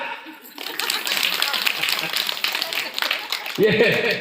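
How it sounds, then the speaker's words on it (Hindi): Listeners at a Shiva Mahapuran katha in Haldwani break into applause, a busy crackle of many clapping hands that swells after a brief quiet start, with a voice briefly heard near the end. "ताली बजा।"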